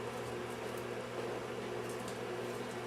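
A microwave oven runs in a kitchen, giving off a faint, steady hum with a low buzzing tone and no talk over it.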